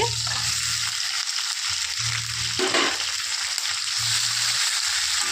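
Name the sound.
vegetables cooking in hot oil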